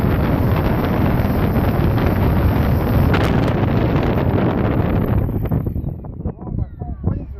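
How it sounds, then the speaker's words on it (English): Strong wind buffets the microphone at a dog park in a loud, continuous low roar that eases slightly near the end, with faint voices underneath. "On a very windy day at the dog park."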